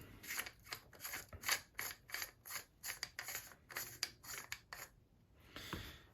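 A custom lightsaber's pommel being unscrewed, giving a run of short, close scraping and clicking twists in a steady rhythm, with a brief pause and a final rasping turn, no talk.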